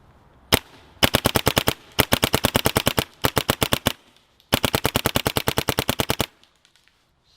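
A gun fired through a chronograph in rapid bursts of sharp, loud, evenly spaced shots, several volleys broken by short pauses, with no one speaking.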